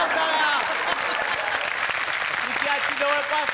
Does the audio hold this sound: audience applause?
yes